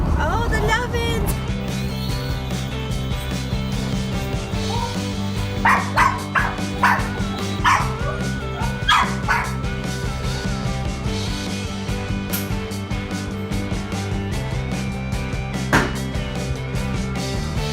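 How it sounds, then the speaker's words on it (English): A dog gives several short yips and barks and a little whimpering in the middle, moderately close, over a steady mechanical hum with people talking nearby. "A dog, honey."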